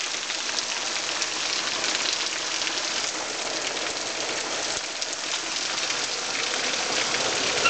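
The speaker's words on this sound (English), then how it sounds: "Sunny out, but still raining." Steady rain patters on surfaces outdoors on a sunny day, a dense even hiss that stays level and moderately faint throughout.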